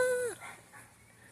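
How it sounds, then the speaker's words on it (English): A dog gives a single short, whiny yelp nearby in a garden after rain, followed by quiet ambient sound. "Dang, this dog's barking."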